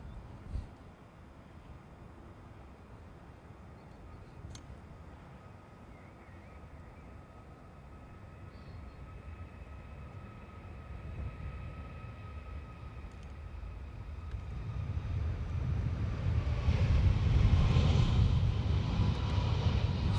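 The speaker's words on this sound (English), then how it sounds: "Very quiet takeoff for Ryanair." A Ryanair airliner takes off at Dublin Airport, a low, broad engine roar that rises from faint and distant to a strong rumble over the last few seconds.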